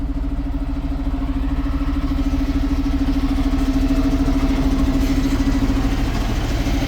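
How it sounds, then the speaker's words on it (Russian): A Ural motorcycle engine runs steadily while riding out on first ice for a fishing trip to the Anabar River, a continuous loud low drone with a firm tone that holds throughout, with no talk over it. "Друзья, вот на таком Урале мы едем."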